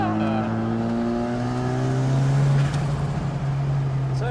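A 1972 Mazda RX3 Savanna restomod with a 13B turbo rotary engine drives along, its engine note holding steady and loud with rising harmonics as it pulls, while a voice speaks faintly beneath it.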